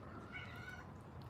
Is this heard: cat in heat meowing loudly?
yes